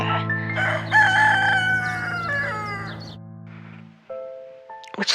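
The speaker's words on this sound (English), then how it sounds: "cry of the rooster" A rooster crows a long cock-a-doodle-doo over a low steady hum, loud and close, followed by softer clucking and a brief bird call near the end.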